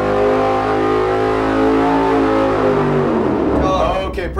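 A V8 engine with an Edelbrock intake and open spacer revs hard on a dyno, rising in pitch under full load, then drops off abruptly, loud and close throughout.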